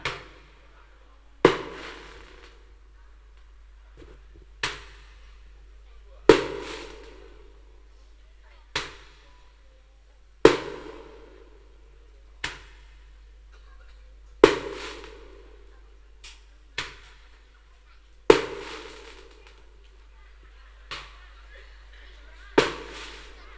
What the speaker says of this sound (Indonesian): tuh kan dipasangin petasan.